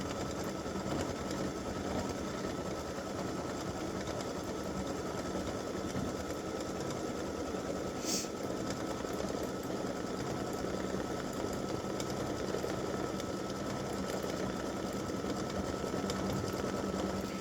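An embroidery machine stitches decorative detail on a side panel of an in-the-hoop Valentine mug rug, giving a steady, even mechanical hum and rapid needle chatter that runs unbroken throughout, with one brief higher tick midway.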